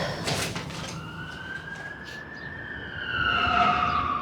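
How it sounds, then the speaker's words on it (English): A siren wails from an emergency vehicle, its tone rising and sliding in long sweeps with a faint second siren layered in, growing a little louder toward the end over a steady wash of street noise. "I hate to hear the sirens."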